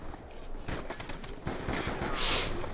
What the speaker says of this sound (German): Fuck, hier ballert jemand durch die Mauer.